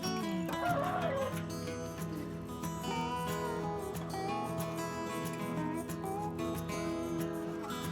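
Chickens cluck and murmur over a busy farmyard backdrop, a steady low chorus of fowl with occasional louder calls, no talking.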